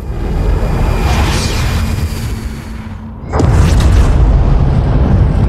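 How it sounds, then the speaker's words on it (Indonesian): Loud roaring rumble, then a sudden booming blast as a rocket fired at a gate explodes, lifting the noise and lingering as heavy rumble. "Ledakan itu pun akhirnya membuat gerbang tersebut hancur"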